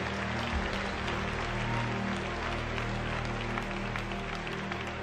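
A church congregation applauding during a French-language sermon, a steady wash of clapping from many people held over a sustained low musical drone, with no pauses.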